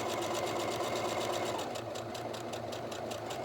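A sewing machine stitching fabric for a reusable microwave popcorn bag, a steady fast mechanical whir with rhythmic needle ticking, close and continuous.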